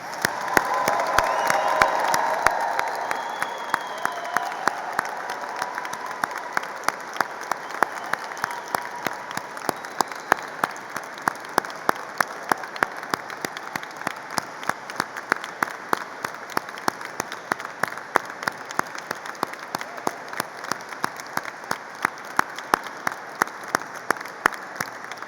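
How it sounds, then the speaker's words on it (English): An audience at a university degree ceremony claps steadily for the graduates, a long sustained round of applause with a few cheers early on, then thinning into scattered individual claps. "giving all of our amazing graduates a huge round of applause"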